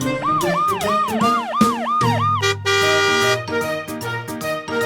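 A loud wailing siren rises and falls rapidly, then shifts to a steady high tone over a full, music-like backing.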